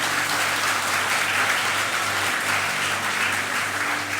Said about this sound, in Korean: 우리 하나님과 목사님께 깊은 박수를